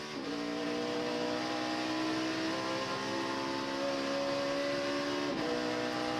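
Onboard a stock car racing in the 2013 Zippo 200, the engine holds a loud, sustained, steady drone, then breaks briefly near the end as the driver shifts up into high gear.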